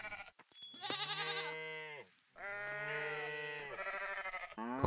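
Goats in the farming video game Coral Island bleat in long, wavering cries, three clear calls one after another, close and loud with short gaps between them.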